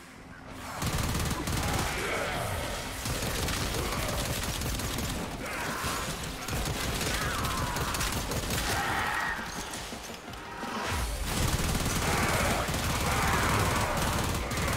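Rapid, continuous gunfire from a weapon in the Warframe video game, dense and loud throughout with only short dips, no talk.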